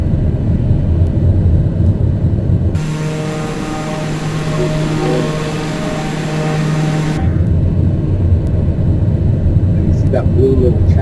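Aircraft engine in a flight simulator game spooling up as the throttle is pushed forward, a steady droning hum with a tonal whine that holds for several seconds before dropping away, under ongoing talk.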